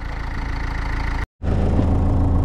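A New Holland L553 long-frame skid steer sits idling on a farm, its engine a loud, close, steady low rumble with rhythmic pulsing, broken by one brief cut in the sound.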